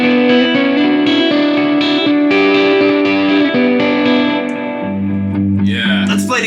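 Electric guitar run through effects, shimmering with chorus, delay and echo; sustained chiming notes ring continuously and loudly, with a shift in the chord near the end.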